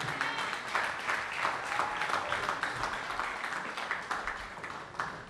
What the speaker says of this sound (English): Let's give the two boxers a lovely round of applause, please.